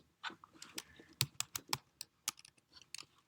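Quick, uneven bursts of key taps on a computer keyboard, close and crisp in a quiet room, about a dozen presses spread across a few seconds.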